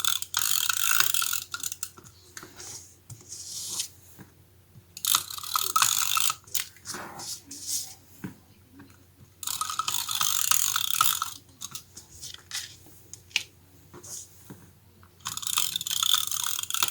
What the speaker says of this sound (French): je vais mettre de la colle tout autour ici avec un roller comme ça qui vient de chez Action